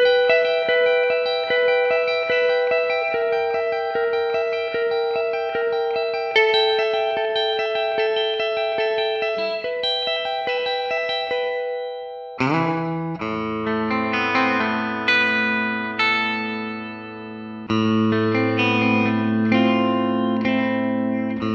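A blue Gibson electric guitar from the Gibson MOD collection, played through effects, rings out alone in sustained chords and melodic lines with heavy chorus, echo and reverb, shifting to a louder, fuller and deeper section about halfway through.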